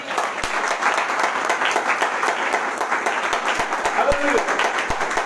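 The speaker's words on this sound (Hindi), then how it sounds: "सब प्रभु को महिमा की तालियां देंगे।" Steady applause from a church congregation during a Sunday morning service, many hands clapping in a dense continuous patter with some sharper individual claps standing out, and a brief voice in the middle.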